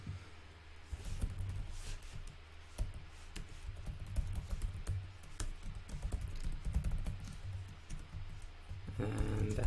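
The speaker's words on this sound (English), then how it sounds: "simply type in your recipients whom you want to send it to" Quiet, steady tapping of keys on a computer keyboard while entering email recipients, soft and close over a low background hum, with no voices.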